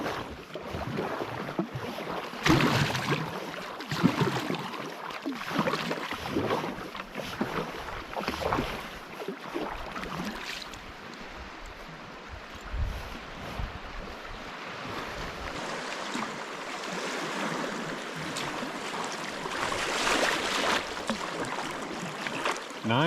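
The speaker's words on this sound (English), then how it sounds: "Almost a little rapid over here." Water rushes and splashes around a paddled boat on the Yukon River, a continuous moderate wash with irregular louder surges, with no talk.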